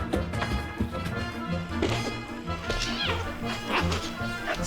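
A young Samoyed barks and yips in short bursts while playing, with thumps and taps of movement and whimpers mixed in, close by and busy throughout, with a voice faintly audible under it.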